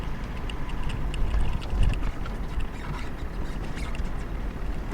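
A vehicle drives along a sand dune in the Kalahari's Kgalagadi on the way to Gharagab, giving a steady, loud low rumble with wind buffeting and a few louder bumps.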